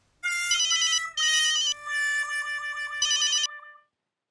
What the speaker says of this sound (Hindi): बागा का फोन मुझे आ गया